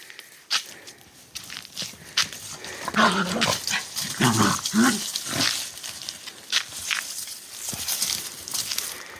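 Dogs bustle around a vegetable garden, with scattered footsteps, sniffing, panting and brief growly vocal bursts near the mic, a busier scuffle in the middle and quieter patter toward the end.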